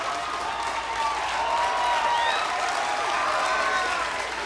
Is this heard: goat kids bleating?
no